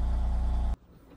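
A BMW M3 with an aftermarket exhaust gives a deep, throaty engine rumble up close that lasts under a second before cutting off abruptly into near silence.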